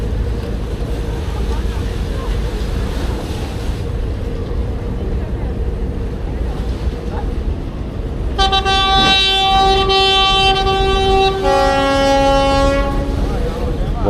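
Two long, deep ferry horns blast one after another over steady outdoor rumble on the Istanbul waterfront at Kadıköy, loud and sustained, the second starting as the first fades.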